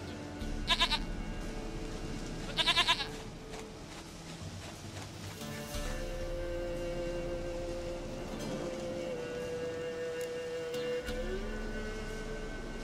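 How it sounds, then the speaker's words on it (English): Goat bleating in The Witcher 3 video game: two short, quavering bleats early on, fairly faint, over a steady ambient game background with low rumble and distant tones. "Goat of mine, dearest, sweetest goat."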